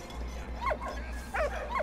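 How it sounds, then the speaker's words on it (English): A dog in the World War I video game Valiant Hearts: The Great War gives a few short yips and whimpering barks, clustered in two quick bursts over a steady low hum. "Oh, it's a doggy!"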